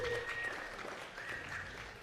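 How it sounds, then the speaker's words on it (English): Applause from the crowd at a mental wellness benefit brunch fundraiser, celebrating a donation; a soft, steady wash of clapping heard at some distance, fairly quiet and without breaks. "A huge round of applause."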